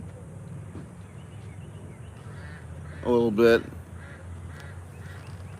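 A few distant Canada goose honks sound in quick succession amid outdoor ambience at a community pond in Phoenix, with a brief spoken phrase nearby.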